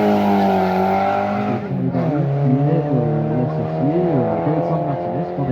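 A historic rally car, a Porsche 944 from 1982, passes close at the Monte historique de Bettant, its engine loud and sustained with rising and falling revs throughout.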